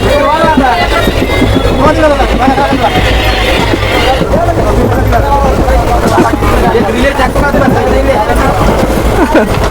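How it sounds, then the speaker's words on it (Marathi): Dense crowd chatter fills a packed carriage of the Adilabad–Tirupati Express while moving, with a constant low rumble of the wheels underneath. "तर पूर्ण फुल झालेली आहे ट्रेन बघू शकता मित्रांनो"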